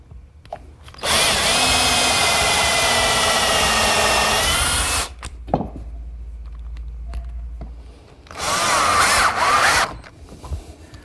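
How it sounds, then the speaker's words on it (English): Power drill bores pilot holes and drives screws into wood while building a chop saw station, a long loud whirring burst, a short pause with a thump, then another high-pitched whine of drilling. "and attach it with some screws."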